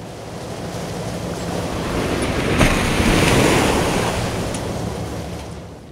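Big waves surge and wash in the icy Arctic sea off northern Norway, a loud continuous roar that swells to a peak midway, mixed with wind buffeting the microphone.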